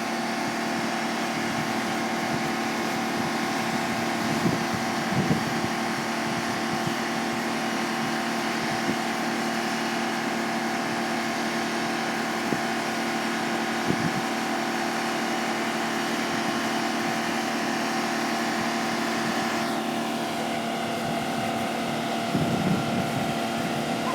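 A Mercedes car engine idling steadily after a blown turbocharger was repaired, a constant droning hum with a tonal whine, unchanging for over twenty seconds, with a few faint knocks and wind noise on the microphone.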